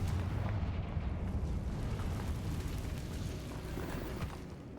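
A Confringo fire spell blasts in Hogwarts Legacy, a dense, loud rumbling roar of explosive fire and crackling debris that fills the whole stretch without pause.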